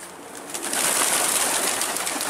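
Pigeons let go outdoors burst into a noisy flurry of flapping wings, a loud, close rush that swells after a brief quieter start.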